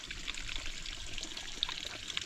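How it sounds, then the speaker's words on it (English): Water trickling and pouring from an old stone water channel on a Portuguese homestead, a steady close bright splashing flow with small drips standing out, no talking. "The water comes onto there."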